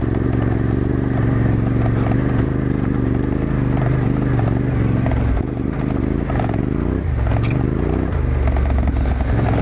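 A Yamaha Tenere 700 motorcycle rides over deep gravel, its engine a loud, steady drone under continuous crunching and clattering from the tyres, with slight changes in throttle and no talking.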